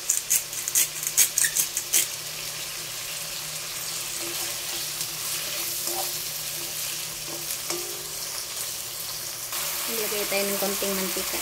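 Sliced pork belly frying in a pan, a steady sizzle running throughout with a few sharper crackles near the start and a clink of utensils late on, no voices over it.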